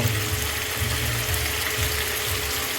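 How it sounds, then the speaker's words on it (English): Vegetables simmer in a pan alongside crispy tofu for a pasta dish, giving a soft, steady bubbling hiss with a low rumble underneath, moderately quiet and continuous with no speech. "So the vegetable is nicely cooking, it is just simmering"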